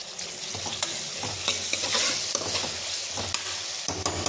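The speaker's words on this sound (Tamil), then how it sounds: "நல்லா வதங்கினதுக்கப்புறம் தக்காளி போடுறோம்." Tomatoes sautéing in a hot pan for a rice and lentil dish, steady sizzling and frying with repeated stirring scrapes and taps, close and continuous, no voices.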